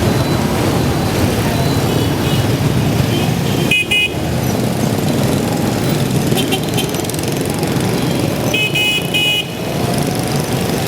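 Dense motorbike traffic on a Vietnamese street near a school, with a steady loud roar of engines and repeated horn toots breaking through.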